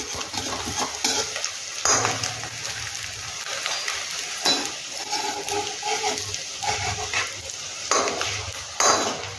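Vegetable manchurian balls deep-frying in hot oil until crispy, a steady crackling sizzle with repeated stirring and scraping bursts from a utensil against the pan, close and fairly loud throughout.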